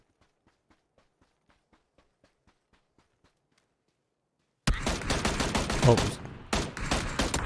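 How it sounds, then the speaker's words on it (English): Dense rapid gunfire bursts in the PUBG: Battlegrounds battle royale video game, loud and continuous after a stretch of faint distant ticking shots, with a brief pause before firing resumes. "Someone else was shooting me"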